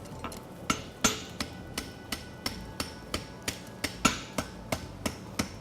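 Steady hammer blows ring on a steel egg bar horseshoe at the anvil during forging, about a dozen light, evenly spaced strikes close by with no talk.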